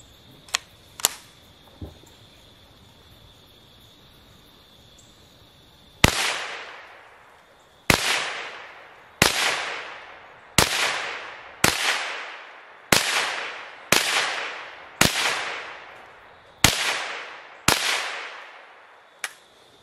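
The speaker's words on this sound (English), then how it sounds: "So we're going to run another 10 rounds." A Browning SA22 .22 rifle fires a steady string of about a dozen sharp, close, loud shots, each with a short ringing decay, after a quiet stretch with a few faint clicks.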